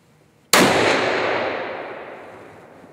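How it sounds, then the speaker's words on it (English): A single rifle shot fired at a 100-yard target during a ballistic turret test, a sharp loud crack followed by a long echoing decay that fades over a couple of seconds outdoors. "to test the system, we're going to take a shot at 100 yards"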